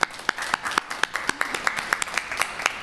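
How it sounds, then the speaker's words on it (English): A modest round of applause at a human rights awards ceremony, distinct individual claps in a brisk, fairly even rhythm, quiet and somewhat distant with no one talking over it. "each one of you get a little bit of a round of applause"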